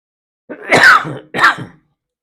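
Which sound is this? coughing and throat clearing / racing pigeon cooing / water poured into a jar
coughing and throat clearing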